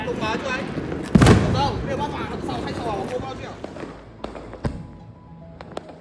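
Chinese New Year firecrackers burst along a street, with one loud blast early on followed by scattered sharp cracks and pops, while people talk throughout.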